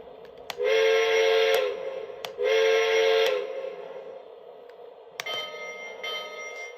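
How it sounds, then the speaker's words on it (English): A Lionel Lionchief Walt Disney World 50th anniversary toy train whistle sounds twice in long, steady toots, followed by a quieter ringing bell with a few sharp clicks. "Now let's take a listen to the whistle and the bell."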